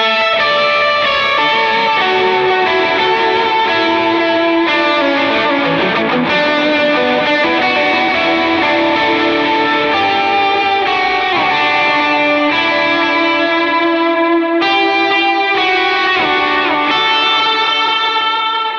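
Electric guitar played through a Line 6 Helix modelling a Vox AC30 amp with the plate reverb removed, sustained distorted chords and melodic lines ringing loudly and continuously with no talking.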